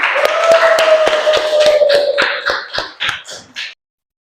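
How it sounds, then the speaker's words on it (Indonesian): A classroom group in an Islamic education lesson claps briefly after a group presentation: a handful of uneven, close hand claps over a faint steady tone, thinning out and stopping abruptly. "Kita beri tepuk tangan."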